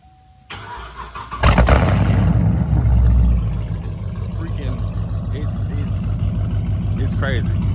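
A straight-piped Chevrolet Camaro 2SS cranks briefly, then fires into a loud, close, rumbling roar that eases back into a deep, choppy idle.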